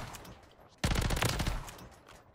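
A BP50 assault rifle in Call of Duty MW3 fires one quick, rapid burst of just under a second, fairly quiet, against a low background hiss.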